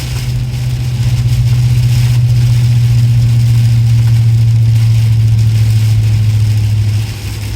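GM 6.6L V8 truck engine with the muffler deleted, a loud, steady deep rumble that swells slightly under light throttle and holds for several seconds before easing off.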